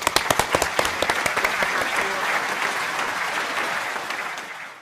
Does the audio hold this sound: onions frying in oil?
no